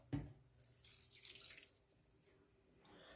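Tap water runs into a cup for making chicken broth from a flavoring packet: a short knock at the start, then a steady splashing stream that swells and gradually fades and thins over a few seconds, with no talking.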